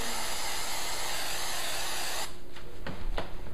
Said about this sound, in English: We're going to spray this out, getting the edges nice and sprayed.